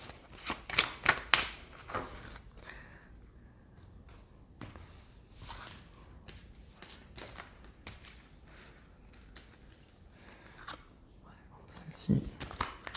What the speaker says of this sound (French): je vais prendre quelques cartes de l'oracle des sons de l'âme. Je vais en prendre 4.